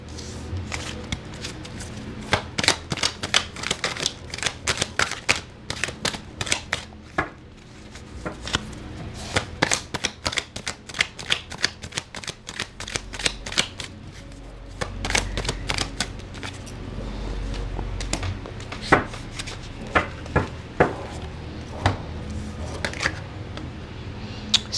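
Tarot cards are shuffled by hand at close range in a long run of rapid, crisp riffles and slaps, with bursts of flicking and short pauses between rounds.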